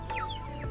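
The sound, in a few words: chicken clucking at market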